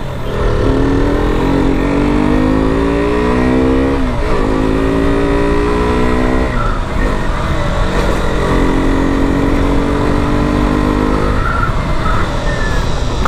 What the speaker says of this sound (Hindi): KTM का इंजन इतना स्मूथ मैंने आज तक कभी नहीं देखा है